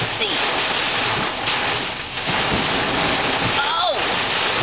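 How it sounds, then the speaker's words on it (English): Torrential thunderstorm rain pounds a car that has pulled over, a dense, loud, continuous roar of water hammering the roof and windows, steady for the whole stretch with brief whooshing swells. "We're in the middle of a torrential rain."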